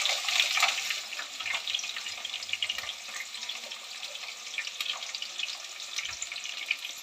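Chopped onions sizzle steadily in hot oil in a pan, a continuous close crackling hiss with fine pops and no talk.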